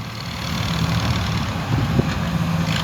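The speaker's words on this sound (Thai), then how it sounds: "คือรถหกล้อ" A six-wheel truck engine idles at a reservoir dredging site, giving a steady low rumble with a constant mid-level drone and a few faint knocks over the top.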